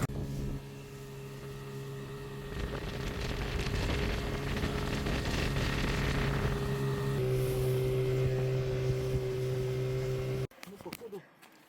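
A Reef Rider 9.9 Pro outboard motor idles in forward gear, pushing a boat along at low speed, a steady drone with a humming tone under a wash of water and wind that ends abruptly. Someone talks over it.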